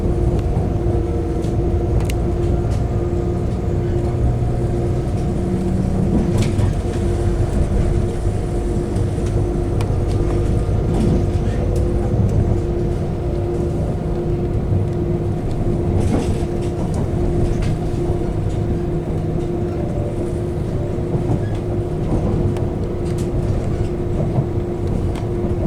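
Steady interior rumble of a moving passenger train, a continuous low drone with faint rattles and a constant mid-pitched hum, fairly quiet and even for the whole stretch with no talking.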